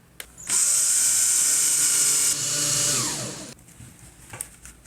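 A power drill whirs loudly at high speed for about three seconds while hanging a canvas picture, briefly changes pitch, then winds down and stops, leaving quiet.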